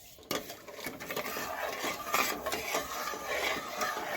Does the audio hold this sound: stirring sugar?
yes